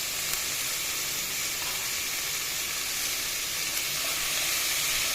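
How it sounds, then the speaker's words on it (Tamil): Chopped garlic and ginger sauté in a pan for channa masala, producing a dense, even hiss of sizzling oil that holds steady and close without pause or voices. "பூண்டு, இஞ்சி கட் பண்ணி வச்சதை ஆட் பண்ணிக்கிறேன்."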